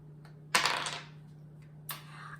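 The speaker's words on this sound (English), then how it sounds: "So I'm going to roll my dice first." Dice rattling and clattering onto a hard surface for a classroom game, two short bright bursts about a second apart, close and fairly quiet over a low steady hum.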